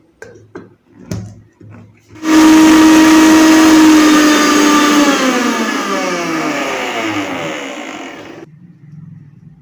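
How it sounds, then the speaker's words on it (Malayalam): Mixer grinder whirring as it grinds shallots, green chillies and tamarind for a tapioca chutney; the loud, steady motor roar starts abruptly, runs for about six seconds with a slowly sagging pitch, then cuts off. "മിക്സിയിൽ ചെറിയ ഉള്ളിയും പച്ചമുളകും പുളിങ്ങയും ഇട്ട്"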